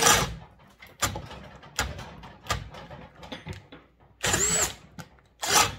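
Bauer hammer drill fitted with a 1.5 inch Diablo bit, running in repeated short bursts that rise and cut out, loud and close, with no talk.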